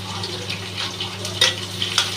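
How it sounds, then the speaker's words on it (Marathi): Garlic sizzling in a hot oil tempering with mustard seeds, cumin and curry leaves for a rustic jackfruit vegetable, a steady close frying hiss with a couple of brief utensil clinks. "लसूण चांगला परतून घ्यायचं आहे, थोडंसं लाल होईपर्यंत"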